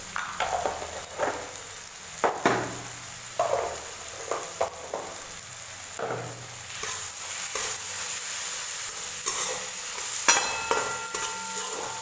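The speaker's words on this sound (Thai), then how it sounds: "ผัดค่ะทีนี้ ผัดไป จน เละหมดแล้วนะคะ" Cabbage kofta curry is stirred and fried in a pan, with a spoon scraping and clacking in irregular bursts over a steady sizzle; no voices.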